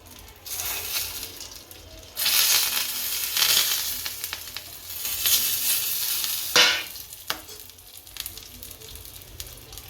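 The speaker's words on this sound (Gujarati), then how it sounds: "આ હિંગ, આ સૂકા મસાલા લીધા એ નાખી દઈએ" Asafoetida and dry spices sizzle hard in hot oil, a loud steady hiss that swells when they drop in, with stirring clinks and scrapes, close up and with no talk.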